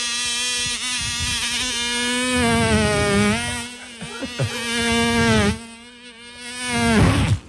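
A human voice imitates an electric razor with a sustained nasal buzzing drone that wavers in pitch and loudness for several seconds, rising and dipping as if passing over skin.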